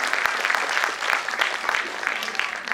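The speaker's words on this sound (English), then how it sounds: "A round of applause for Sarish again" An audience at a music academy's annual festival gives a brief, steady round of applause, many hands clapping together at moderate loudness for a few seconds.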